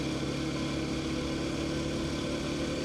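A Kawasaki KLX230S motorcycle engine runs at a steady idle, a continuous low, even hum with no change in pitch and no talking over it.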